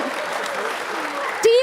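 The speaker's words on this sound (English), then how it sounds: "Please give a bigger round of applause." Audience applause at an awards finale of a global sustainability challenge as a winning team is called to the stage, a steady, dense wash of clapping that holds throughout, with a brief sharper sound near the end.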